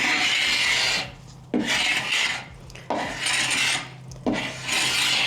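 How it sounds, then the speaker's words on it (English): A carbide scraper drags paint off a wooden mid-century dresser in four long, loud rasping strokes, each separated by a brief pause, close up with no talking. "I'm using a carbide scraper, which I don't normally use, but I just felt like it needed that extra oomph."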